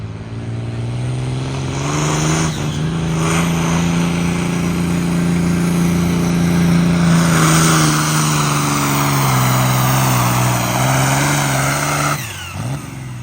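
A Light Limited Super Stock tractor, 15,000 pounds, roars at full throttle during an ECI tractor pull in Cuba City, a loud, sustained, droning engine note that rises and falls slightly before cutting out near the end.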